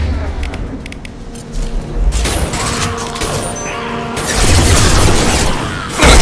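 A powerful impact shot fires in Mass Effect 2 Legendary Edition, a loud crashing boom amid clattering mechanical combat noise, ending with another sharp heavy hit.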